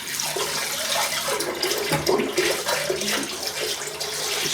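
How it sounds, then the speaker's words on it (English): Hot tap water runs steadily over a Muhle Rocca safety razor blade in a bathroom sink during a wet shave, a continuous close splashing with no talk. "Just running it under the hot water."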